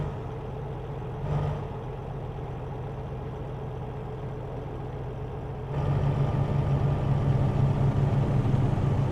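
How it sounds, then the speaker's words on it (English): Simulated truck engine in American Truck Simulator, an International heading toward San Diego, drones steadily at idle-like pitch with a low harmonic hum, a brief bump early on and a louder, busier stretch in the final seconds; no talk. "the engine sounds a little different this week than it did last week"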